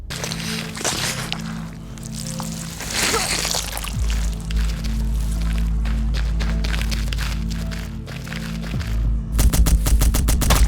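Heavy-recoil gunfire in the game Succubus with Guns: booming shots and rapid bursts hammer away under droning music, ending in a fast rattling volley, loud and close throughout.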